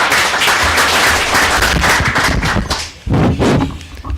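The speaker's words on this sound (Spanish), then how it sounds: "Y nuevamente lo recibimos con un aplauso" A seminar audience at an Alcoholics Anonymous community talk claps to welcome a psychologist to the front, a dense, steady wash of applause that thins briefly near the end and then swells again before the speaker begins.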